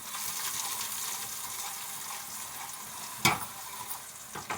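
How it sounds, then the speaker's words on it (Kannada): Butter, about half a kilogram, sizzles steadily in a pan as it cooks down into browned ghee, with a soft continuous frying hiss, a sharper crackle near the end, and no talking. "ಕೆಂಪಗೆ ಕಾದಿದೆ ತುಪ್ಪ."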